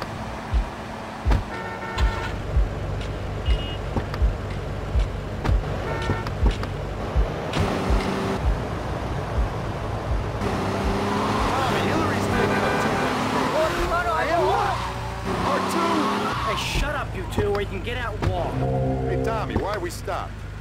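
Car driving in Grand Theft Auto Vice City: a steady engine drone and road rumble runs throughout, with clicking thumps early on and characters talking over the motor in the second half.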